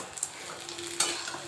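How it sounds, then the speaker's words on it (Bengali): Onion fritters (piyaji) frying in a pan in a home kitchen, a steady soft sizzle with a couple of brief clinks of a utensil stirring, fairly quiet and close with no voices. "দেখো এখানে মুড়ি খাওয়ার জন্য একটুখানি পেঁয়াজের বড়া করছি।"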